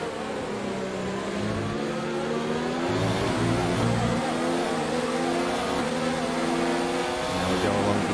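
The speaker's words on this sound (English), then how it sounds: "we're revving the engine rather clearly through that section, trying to extrapolate all the speed that we can" Formula 1 car engine in F1 2019 at Circuit of the Americas, a loud continuous high-pitched whine rising and falling through gear changes, with a voice talking over it.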